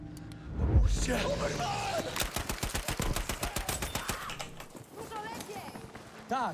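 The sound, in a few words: gunfire in video game Battlefield V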